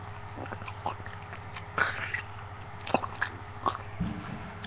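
Close-up wet crunching and smacking of someone chewing wet food to imitate eating chips, scattered irregular bites and squelches over a quiet hum, one person mimicking the crunch with the mouth.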